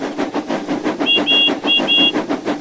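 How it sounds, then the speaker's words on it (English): A steam locomotive whistle in a train-driving video game blows in two short pairs of high, clear tones over the steady chuffing and hiss of the engine, loud and close. "Sometimes you hit the whistle button, and instead of blowing the whistle twice, it only blows once."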